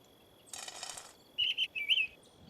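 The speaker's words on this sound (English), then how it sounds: "Ah, the bird." A small bird chirps in the horror video game The Crimson Maid, giving several short, bright, close tweets in quick succession after a brief rustle, with quiet background ambience.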